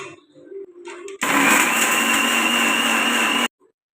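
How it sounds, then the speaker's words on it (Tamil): A mixer grinder whirs loudly for about two seconds, grinding ingredients for sweets, then cuts off abruptly; faint kitchen clatter comes before it. "நல்லா அரைச்சிக்கலாம்."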